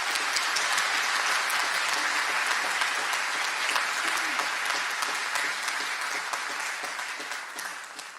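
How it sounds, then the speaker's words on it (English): A graduation audience at the RECHS ceremony claps loudly and continuously for several seconds, a dense even roar of hands that tapers off toward the end. "everyone can give these people a round of applause"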